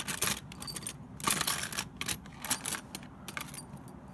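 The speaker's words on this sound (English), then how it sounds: "Nissan, all kinds of cool Nissan keys." Old Nissan and Datsun car keys, including one for a 300ZX, jangle and clink together in a bright metallic rattle of repeated bursts, close and fairly loud, with no talking.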